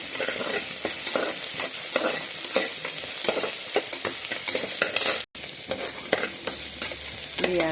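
Onion, garlic and dried red chili fry in hot oil, giving a dense, continuous sizzle close by, with repeated sharp scrapes and clicks of a spoon stirring the pan and one brief break near the end.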